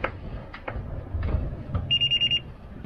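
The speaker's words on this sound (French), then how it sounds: "Voilà la sonnerie du radar." A sailboat's radar alarm rings as a quick run of about six high electronic beeps, clear and fairly close, over a low background rumble from the boat at sea.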